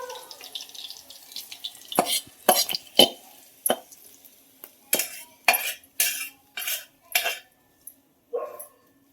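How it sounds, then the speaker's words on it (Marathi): Sharp crackling and sputtering bursts in quick succession as chilies and curry leaves temper in hot oil, with pauses between the louder spits. "फोडणी आता टाकते जेवढी."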